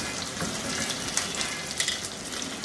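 Shrimp fry in a pan over high heat, giving a steady, dense sizzling hiss with small crackles throughout and no voices.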